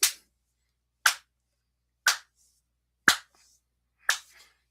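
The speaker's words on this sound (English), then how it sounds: "I'm going to clap again." A single person slow-clapping outdoors on a golf fairway: five sharp, isolated claps spaced about a second apart, each ringing briefly before silence, close and fairly loud with no talk.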